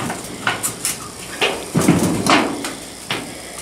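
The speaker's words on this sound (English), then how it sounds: "And I've shown Rainiel how to get these nails out using only a hammer and not minimum damage to the roof sheets." A hammer works nails loose from old roof sheets over a tilapia breeding tank, giving a series of sharp metallic knocks and scraping thuds at irregular intervals, close and fairly loud.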